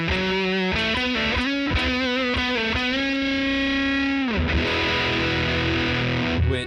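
An electric guitar played through a JHS Kilt fuzz pedal and a Preamp Mark II pedal gives thick, distorted sustained notes and a ringing chord, loud and alone.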